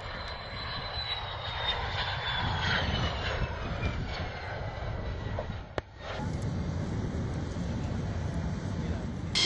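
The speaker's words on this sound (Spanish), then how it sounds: "Más de 100 aviones despegan cada día durante estas maniobras en Iniojos" A military jet taking off during military exercises roars loudly nearby, a high engine whine sliding down in pitch over a broad rumbling thrust that swells and holds.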